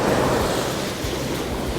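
Winter ocean waves wash onto Gyeongpo Beach in Gangneung, South Korea, in a continuous roar, mixed with wind buffeting the microphone.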